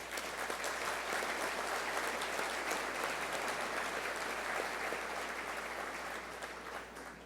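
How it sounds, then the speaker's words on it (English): Sustained applause from the audience at Wright-Hennepin's 86th annual meeting rolls on evenly as a dense clatter of many hands, with a faint low hum beneath and a gentle taper toward the end. "Please join me in a round of applause to thank the individuals and all the employees who helped"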